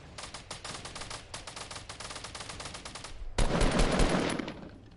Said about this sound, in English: good shot, John.